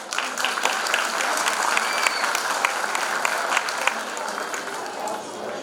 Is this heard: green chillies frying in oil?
no